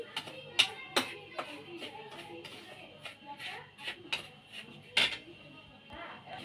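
A spoon clinks and scrapes against a metal bowl while semolina dahi vada batter is stirred with carom seeds and salt, giving a scatter of sharp, irregular taps up close, with quiet talk underneath.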